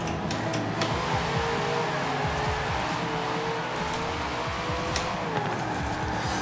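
The General Lee car slides in Forza Horizon 4, engine droning steadily while tires squeal and skid through a long drift with shifting pitch, loud and continuous, with no voices.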